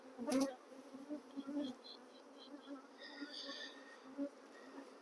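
Honeybees from a relocated hive box hum and buzz close by, a steady droning swarm with individual bees zipping past, plus a few faint bumps and thumps.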